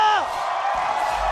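A live esports crowd at an MPL Mobile Legends match between RRQ Hoshi and Team Liquid Indonesia claps and cheers in a loud, continuous roar after a short rising musical sting.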